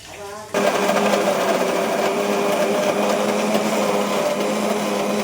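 After a brief start, a mixer grinder grinding onion paste whirs loudly and steadily with a high, buzzing motor whine that continues to the end.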